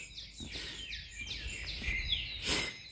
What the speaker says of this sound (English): The birds have just woken up.